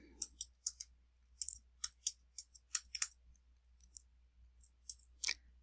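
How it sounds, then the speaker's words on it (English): Quick irregular clicks of keys being typed, bursts of taps with short pauses between, close and fairly quiet over a low hum. "I'm typing my commands into this window"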